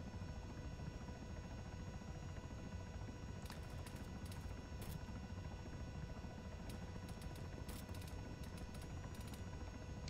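A CH-67 Huron helicopter in ARMA 3 drones steadily with a heavy rotor thump and engine whine, a constant loud hum with occasional brief clicks layered on top.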